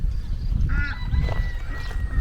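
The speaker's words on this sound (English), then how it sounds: "Geese?" A few nasal honks from geese nearby in a Romanian village, brief calls over a low outdoor rumble.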